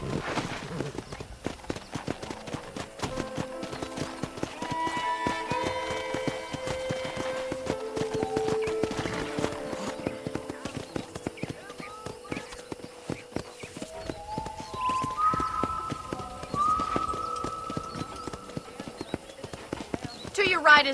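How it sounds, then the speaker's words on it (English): Horse hooves clip-clop at a steady walking rhythm in the video game Red Dead Redemption 2, running throughout beneath game music and talk. "I picked out a fine horse for you."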